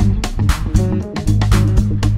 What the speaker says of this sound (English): what we're listening to right now are some great funk tracks playing in FL Studio that we created with the plugin